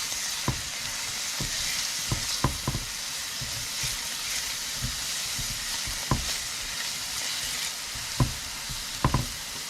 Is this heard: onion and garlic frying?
yes